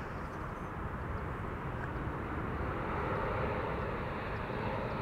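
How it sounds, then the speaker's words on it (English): A Ryanair airliner arriving from Dublin gives a distant, steady engine rumble and rush at low level, with no voices. "Ryan Air Flight 3100 arriving from Dublin, Ireland."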